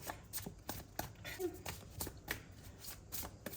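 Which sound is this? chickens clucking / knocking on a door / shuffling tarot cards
shuffling tarot cards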